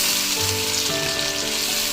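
Chopped tomatoes and green chilies fry in a pan for an aloo anda salan, a loud, steady sizzle and crackle running throughout with no talking.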